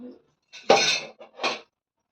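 Home dishes and pots being handled for washing: three short, close bursts of clattering and clinking metal and crockery, separated by brief silences.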